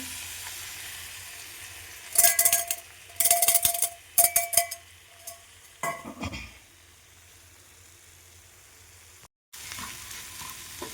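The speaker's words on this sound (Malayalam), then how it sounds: "മുട്ട കുറച്ച് ഫ്രൈ ആയിട്ടുണ്ട്." Three eggs frying in a pan: a run of sharp metallic clinks and scrapes from stirring, then a steady low sizzle settles in alone.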